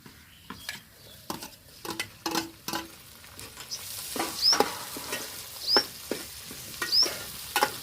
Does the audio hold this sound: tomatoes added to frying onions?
yes